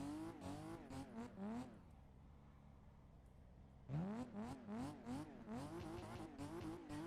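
BMW E36 engine in the Assetto Corsa racing game, drifting on snow with repeated rising and falling revs and tyre squeal, loud and close, dropping away briefly in the middle before surging back up.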